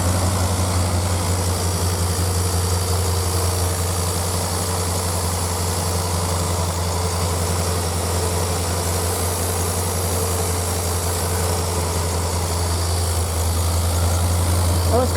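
A 1984 Corvette Z51 with a swapped 5.3 LS V8 idles with a steady, loud, deep rumble that stays unbroken throughout, its air pump partly unhooked and blowing air onto the intake.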